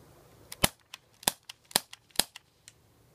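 Four sharp, loud shots from a Baby Desert Eagle CO2 air pistol ring out in a steady rhythm, each followed by faint mechanical clicks, with no talking.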